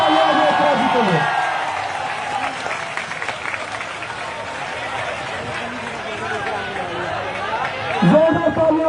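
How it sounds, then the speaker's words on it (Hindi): A protest crowd at Jantar Mantar claps steadily for a speaker, loud and sustained, with cheers and chatter mixed in. A voice rises over the applause at the start and again near the end. "जोरदार तालियां इकरा जी के लिए एक बार फिर से"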